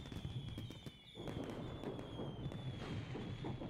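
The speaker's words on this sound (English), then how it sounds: "Hey, fireworks this time." Fireworks sound effect in a late-night trivia video game, a crackling fizzing barrage with soft thumps and a thin whistle, steady and fairly loud throughout.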